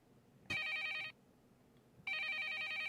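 A telephone rings in a Hamtaro cartoon, two loud trilling electronic bursts separated by a short silence, with no voices over them.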